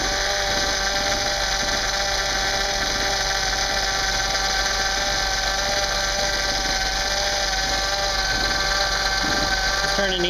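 A Honda power steering pump whines steadily as the wheel is slowly turned with the engine running: a constant, loud, high mechanical whine with a low engine drone beneath it, unbroken for the whole stretch.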